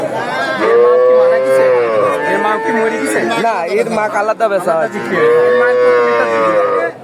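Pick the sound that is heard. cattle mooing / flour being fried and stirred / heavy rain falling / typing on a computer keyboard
cattle mooing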